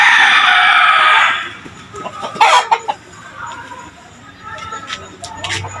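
A fighting rooster crows loudly at the start, then chickens cluck and scratch nearby with faint background noise.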